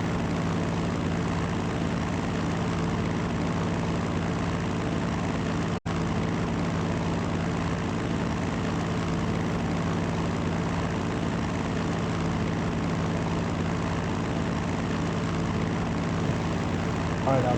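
A propeller aircraft engine in the Battlestations Midway video game drones steadily and loudly throughout, a constant unbroken hum with a single brief cut near the start.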